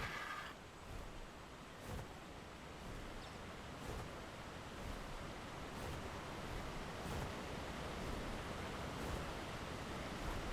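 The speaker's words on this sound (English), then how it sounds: "So ideally this is the waterfall." Steady broadband rush of a waterfall in the video game Ark Survival Ascended, a constant hiss of falling water that holds even and moderately loud throughout, with faint soft thumps underneath and no voices.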